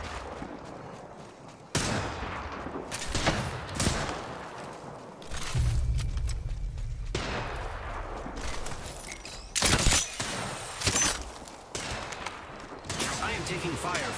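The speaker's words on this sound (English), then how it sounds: "I am taking fire, friends." Gunfire in the battle royale shooter Apex Legends on the King's Canyon map, with bursts of shots and sharp cracks coming in clusters amid other game noise, with occasional voices talking over it.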